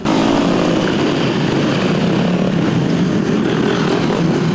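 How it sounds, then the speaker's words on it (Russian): Motocross motorcycles on a clay practice track buzz and drone continuously, overlapping engine noise close and loud with no speech. "С 8 утра здесь не утихают моторы"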